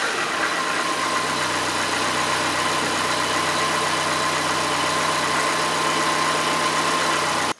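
A 2008 Peugeot 307 1.6 petrol engine (TU5JP4) idles steadily at close range, a constant low rumble with a faint whine and no voices.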